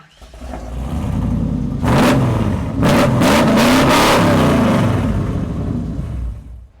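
A Chevrolet 454 SS with its 7.4-litre big-block V8 cranks, fires up and settles into a rumbling idle, then is blipped through several loud, close revs before dropping back to idle.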